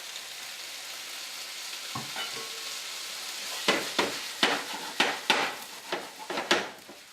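Tomatoes tossed into a hot pan alongside cooking chicken give a steady frying hiss, then a run of sharp stirring and scraping knocks as they are tossed together, close and clear with no talking.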